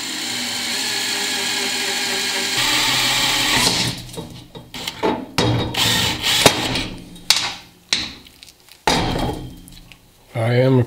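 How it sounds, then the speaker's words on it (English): A power drill bores through a chrome metal end cap while fabricating a Festivus pole, first running steadily, then in short bursts and stops with clunks of handling between, loud and close. "Get the drill in there and work your way through."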